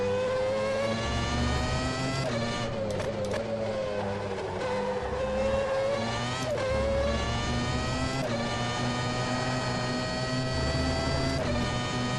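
McLaren MP4/13 Formula One engine in rFactor 2 at Spa, a high-pitched whining V10 rising and falling through gearshifts, loud and continuous from the cockpit with no talk.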